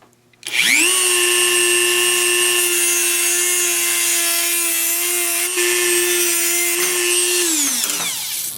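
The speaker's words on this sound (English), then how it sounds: "I'm going to grab our Dremel again and get to cutting" A Dremel rotary tool cuts metal tubing for rock crawler suspension links, a loud, steady high-pitched whine that spins up quickly, holds for about seven seconds and then winds down.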